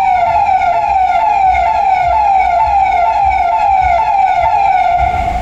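A loud modified hooter siren on a Maruti Swift car wails in a steady, repeating sweeping pattern, close by and continuous, with no talk over it.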